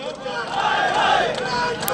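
A crowd at a PDM political rally in Peshawar shouts slogans together, a loud, dense roar of many voices rising and holding steady, heard from amid the gathering.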